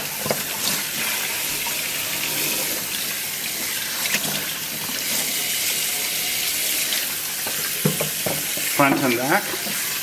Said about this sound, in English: we're going to wash the outside and inside of the turkey.